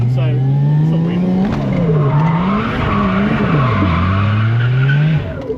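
A car doing a handbrake turn around a cone on worn tyres, loud tyre skid and squeal rising and falling over a revving engine, close and continuous for several seconds.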